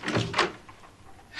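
A hidden exit door swings open in a period interior, a soft wooden creak and knock with a brief scrape, fairly close and moderately loud, fading into quiet.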